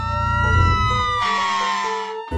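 Cartoon fire truck siren in a children's animation, a loud wailing tone that sweeps downward over two seconds and ends abruptly.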